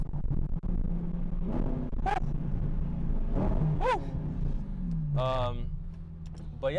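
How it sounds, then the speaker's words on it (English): A car engine downshifts: a low, steady rumble whose pitch drops partway through, with brief voice-like sounds over it. "Here's the downshift."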